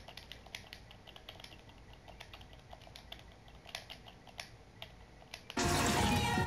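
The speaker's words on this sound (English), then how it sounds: "I'm gonna type in chat why." Rapid clicking of a computer keyboard during a Rocket League match, with steady close keystrokes for several seconds before a loud burst of game sound cuts in.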